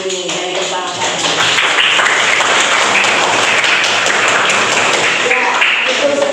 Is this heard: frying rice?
no